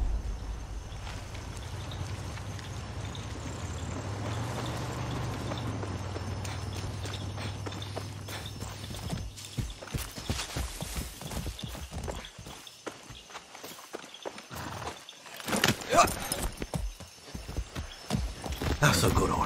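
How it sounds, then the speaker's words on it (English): Rhythmic hoofbeats of a horse galloping fast over ground in the video game Far Cry 6, close and clear, growing busier and more uneven toward the end. "That's a good horse."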